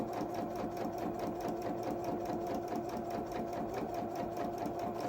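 A sewing machine chain pieces fabric knee pads for a small doll's coveralls, a continuous fast mechanical whirr with even rhythmic stitching pulses, close and steady throughout.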